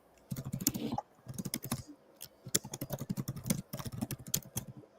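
Rapid clacking of fingers typing on a computer keyboard, bursts of quick keystrokes separated by brief pauses, close and clear with no talking.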